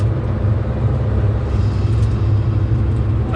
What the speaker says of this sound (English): It's got some really cool wastegate and turbo noises coming out of it already.